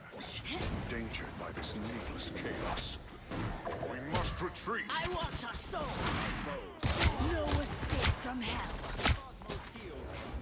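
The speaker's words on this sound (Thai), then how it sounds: "เห็นตัวไหนก็ยิงไปเลยครับ" Rapid bursts of weapon fire and impact hits in the Marvel Rivals video game while playing the hero Hela. Dense, loud volleys with sharp cracks and whooshes run under someone talking.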